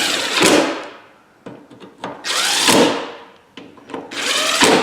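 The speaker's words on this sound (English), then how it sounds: "Get your torque wrench." A wrench works on the rear hatch latch bolts of a Ford Escape, heard as repeated close ratcheting bursts, each rising and fading, with short pauses and small knocks between them.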